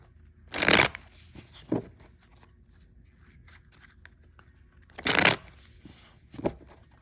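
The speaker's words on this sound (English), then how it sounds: "I will shuffle this first deck a few more times here" Two bursts of tarot cards being riffle-shuffled close up, each followed by a soft tap, with quiet pauses in between.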